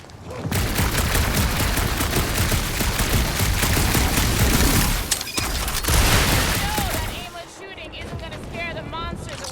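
Sustained gunfire from a Guardians of the Galaxy game firefight, a dense stream of rapid shots and booms running for most of the stretch before easing, with voices talking over the action near the end.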